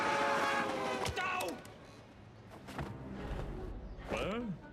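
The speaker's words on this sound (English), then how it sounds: "Ah, a ghost train!" A ghost train in LEGO Dimensions, in a LEGO Simpsons level, rumbles past with creaking, mechanical clatter and rising and falling eerie wails or horn-like tones, loud and close, with voice-like sounds mixed in.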